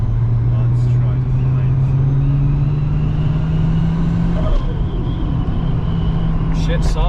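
A Nissan 350Z is driven on the road, its engine a steady, loud drone that rises slowly in pitch as it gains speed, with road noise underneath and people talking inside the car.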